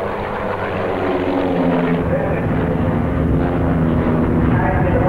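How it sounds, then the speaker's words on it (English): Pitts Special aerobatic biplanes fly overhead at a 1982 superkart Grand Prix meeting, their propeller engines a loud, continuous droning roar that swells and shifts in pitch, with a commentator's voice partly over it. "Precision flying then from the pilots of those pit specials, which are especially designed for this sort of aerobatic work."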